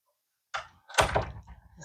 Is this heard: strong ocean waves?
no